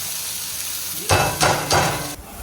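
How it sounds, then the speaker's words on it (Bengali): Chowmein noodles frying in a pan in a home kitchen, starting after a quiet stretch with three loud bursts of sizzling and tossing clatter in quick succession, close by. "হাফগুলো ভাজা হয়ে গেছে আর হাফগুলো ভেজে নেব"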